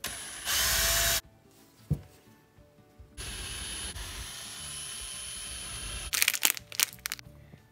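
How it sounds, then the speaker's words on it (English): A power drill whirs in short bursts while drilling holes in a wooden table, a sustained high whine that stops and starts, with a few clunks of handling between runs and a louder ratcheting burst near the end. "I'm gonna drill the holes in the rest of the table now"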